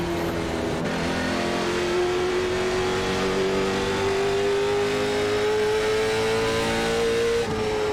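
Late model stock car engines roar in the iRacing video game at North Wilkesboro, a loud sustained drone with the pitch slowly climbing, steady and close with no speech.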